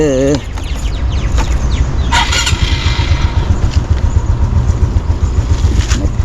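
A motorcycle engine idles and revs with a steady low throbbing pulse on a morning ride toward a market in Pandamaran, with a brief rooster-like crow at the start and some higher chirps over the engine.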